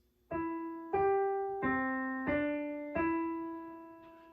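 Five sustained piano notes from the Jingle Bells melody struck one after another at a slow, even pace, each ringing and decaying, the final E held for a couple of seconds.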